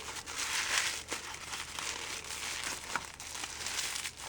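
Close crinkling and crumpling of colorful paper wrapping as a handmade bath bomb is unwrapped, a steady rustle with a few sharper crackles and no talking.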